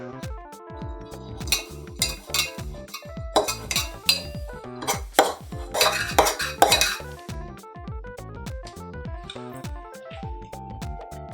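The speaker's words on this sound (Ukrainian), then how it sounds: "перемішаю." A spoon stirs honey into a mocktail in a mug, giving a run of quick, close metallic clinks and scrapes against the sides with short pauses, quiet and without talk.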